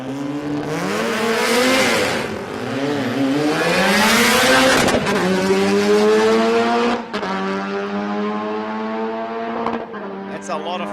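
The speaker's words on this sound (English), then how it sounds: "In case you didn't notice, very cranky, angry, loud car" Loud, harsh revving of a Mazda 13B rotary engine in a little Datsun 1200 drag car at a raceway, with rising and falling engine pitch over the whole stretch, heard close up and alone.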